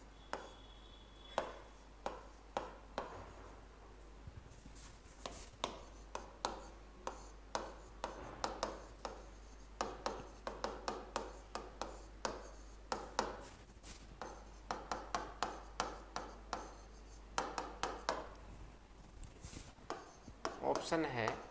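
A teacher writes out a maths question by hand: faint, quick scratching strokes and light taps come in irregular bursts for about twenty seconds, with no talking.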